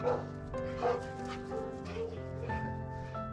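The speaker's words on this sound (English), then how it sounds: "With some dogs that are just more verbal when they play, like she is" Dog barking and yipping during play, a quick series of close, short vocal yips and whimpery barks with brief pauses between them.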